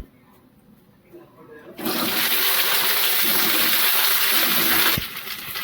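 Green chilies hit hot oil in a pan with a sudden loud sizzle that holds steady for about three seconds, then drops back to a quieter crackle.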